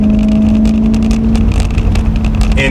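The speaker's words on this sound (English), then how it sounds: "has burbles on it and also spit flames, so maybe I can get all that on footage" A modified BMW E9X M3 with a six-speed manual and air suspension revs loudly and close by, its exhaust burbling and crackling over a steady engine drone.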